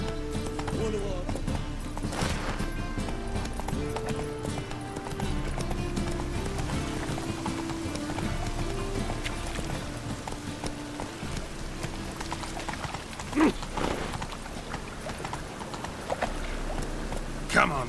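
Horse Roach in The Witcher 3 moving at a gallop, rhythmic hoofbeats pounding under game music and voices talking, with occasional louder thumps.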